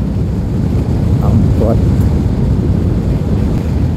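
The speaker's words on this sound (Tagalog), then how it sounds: "Masyadong malakas yung hangin sa labas." Strong wind roars against a helmet visor while riding, a loud steady rumbling buffet throughout, with a brief voice speaking under it.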